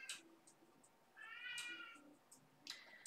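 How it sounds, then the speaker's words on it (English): Cat meowing in the background of an indoor painting session: a drawn-out, baby-like wail flanked by shorter meows, faint and somewhat distant, with no speech. "but it's actually my cat in the background"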